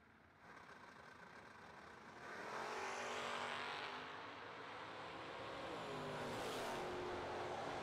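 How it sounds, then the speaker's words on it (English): Drag racing at a track with a Chevrolet Malibu and an orange third-generation Camaro, engines droning loudly at a distance, swelling to a sustained roar as the cars launch and run down the strip. "Johnson right side in the Malibu dials in 697. 615 for Drew Buckner in the orange 3rd gen Camaro"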